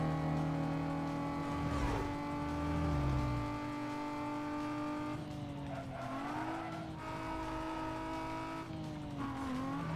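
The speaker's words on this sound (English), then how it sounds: "Oh, that's a car." A car racing in Need for Speed Most Wanted (2005), its engine droning at steady revs with shifting pitch as it accelerates, and tires squealing and skidding through turns, loud and continuous with no talk.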